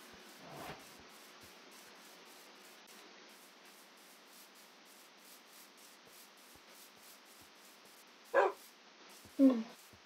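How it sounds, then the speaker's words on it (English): Dogs in the video game Minecraft give two short barks near the end, loud and close, after a long stretch of faint, steady game ambience with a brief soft sound near the start. "Try to hear the noise of the dogs."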